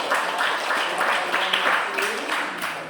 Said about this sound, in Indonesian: Terima kasih, berikan tepuk tangan